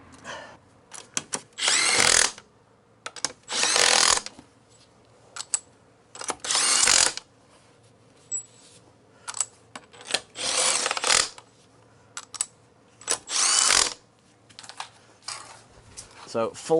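Rapid bursts of a power ratchet or impact gun fitting the wheels on an Alfa Romeo Giulietta widebody, loud and close, in repeated short runs with brief pauses and clanks between.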